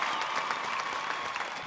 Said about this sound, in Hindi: जोरदार तालियां फॉर कुणाल सिंह जी के लिए।